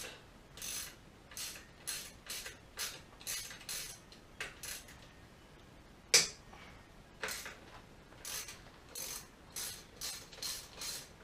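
A ratchet clicks while loosening the fork clamp pinch bolts on an ATC 200X, giving repeated short bursts of quick, close clicking strokes. One sharper metallic knock sounds midway, and nobody talks.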